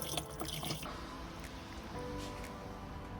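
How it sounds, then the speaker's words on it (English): Washer fluid pours into the windscreen washer reservoir of a 2007 Ford Ranger, a soft, steady liquid trickle and splash with a few drips, fairly quiet and continuous, with no talking. "top up the windscreen washer fluid"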